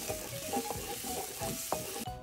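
Onions sauté in a pan for a Filipino mussel dish, a soft, even sizzle broken by a few stirring scrapes in quick succession.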